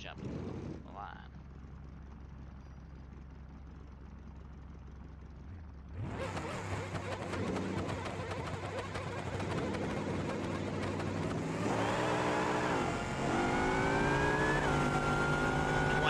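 A Pro Mod inline-four race car engine starts after a quiet stretch, then idles roughly and revs hard in loud, rising pulls, with bursts of acceleration near the end; the engine is up close and heard without talk.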